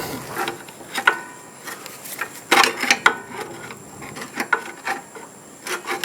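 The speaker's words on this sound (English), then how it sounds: "Okay, I got a big screwdriver. And I'm going to try to pry that thing down." A big screwdriver pries at a part of a Snapper mower's friction-drive clutch disc, making irregular scraping and rubbing metal sounds in short bursts with brief pauses between, fairly close and moderately loud.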